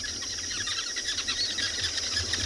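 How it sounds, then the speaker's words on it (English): Weaver birds chatter busily around their nests on a thatch roof, a dense steady mass of small overlapping chirps that carries on throughout at a moderate distance. "the weavers have taken over the thatch roof"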